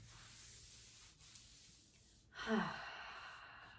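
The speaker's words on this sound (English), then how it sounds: "Maybe rubbing down into the feet." Hands rubbing down along the feet in a seated practice: a brief soft brushing swish of skin and fabric after quiet room tone, close and gentle.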